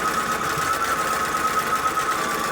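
Fabric pieces for a log cabin quilt block feed through a sewing machine in a continuous, even, close-up motor hum and needle patter, loud and uninterrupted, with no voices.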